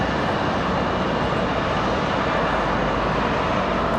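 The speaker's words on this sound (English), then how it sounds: "that Delta 737, Delta 2052, getting ready to head to Atlanta, Georgia" A Delta Boeing 737-900 taxis out at Raleigh-Durham International with a continuous, fairly loud jet engine rumble and hiss, steady and unbroken, and no voices.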